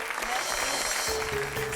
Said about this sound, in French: Je voudrais qu'on applaudisse très fort Stéphanie